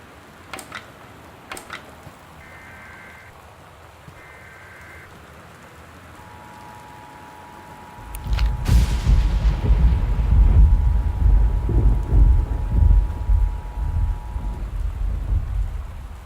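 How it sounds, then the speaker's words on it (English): Torrential rain and rolling thunder in the game Gone Home swell in suddenly after a few sharp clicks and beeps, then roar heavy and continuous with a low rumble underneath. "The Northwest Weather Service reports high winds and torrential rain conditions affecting the following counties"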